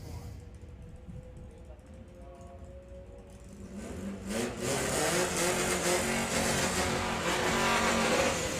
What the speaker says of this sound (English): So Reece with the Lupos off and running. It's a green light race.